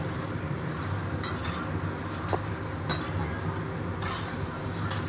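Ginger fries in a pan in a smoky kitchen, a constant close sizzle broken by several quick scraping and clinking strokes as it is stirred.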